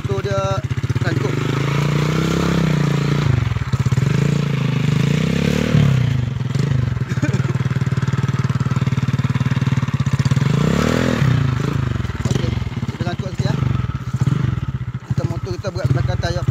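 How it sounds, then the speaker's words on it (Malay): A motorcycle stuck on rough jungle terrain, its engine revving hard and repeatedly with rising and falling pitch, close and loud, with scraping and clatter as people talk over it. "Jadi motor dia sangkut."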